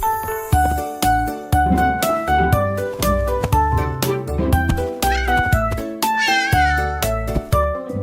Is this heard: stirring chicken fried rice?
no